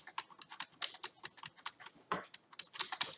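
Rapid, uneven clicks of the W, A, S and D keys on a computer keyboard, close and crisp, with bursts of presses and short pauses and no talking.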